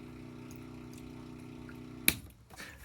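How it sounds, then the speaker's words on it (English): A quiet, steady low electric hum from an RV water pump drones on, then a sharp click cuts it off, leaving faint rustling. "if you press the water pump button, you will start having water."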